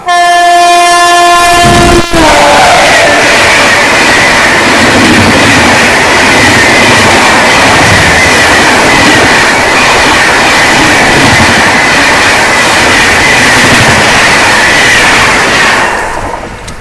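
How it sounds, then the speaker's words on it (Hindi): Magadh Express, an Indian passenger train, being overtaken by the Sealdah Rajdhani: a horn blares briefly, then a loud, close, sustained roar of passing coaches and rolling wheels fills the whole stretch before easing at the end. "अभी इसको ओवरटेक करने आ रही है सियालदह राजधानी"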